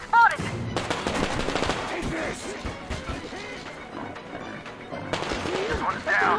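Rapid automatic gunfire in the video game Metro Exodus rattles in dense bursts, with a loud opening shot, a sustained stretch of firing and another volley near the end, while shouted voices come through over the shooting.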